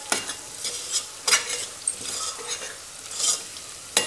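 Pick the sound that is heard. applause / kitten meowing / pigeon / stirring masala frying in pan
stirring masala frying in pan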